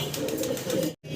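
Pigeons, including a black Modena male, coo in a brief burst of low, throaty calls close by, cut off abruptly by a moment of silence near the end.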